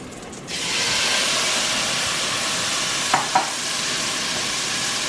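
Steak for lomo saltado goes back into a hot pan and bursts into a loud, steady, hissing sizzle that holds for several seconds, with a couple of brief clinks near the end and no talk.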